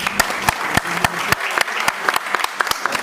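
An audience at a district-level NSUI meeting applauds the student election panel, producing sharp, distinct claps in an uneven rhythm from a modest crowd, fairly loud and close.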